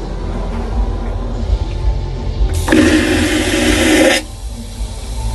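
A vacuum toilet flushes with 0.26 gallons of water, giving a sudden loud rushing hiss that lasts under two seconds and then stops sharply, with low room noise around it.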